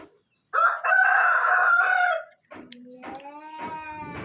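A rooster crows loudly and close by in one long, drawn-out call, followed after a short pause by choppier clucking and a second, rougher crow, with no talking.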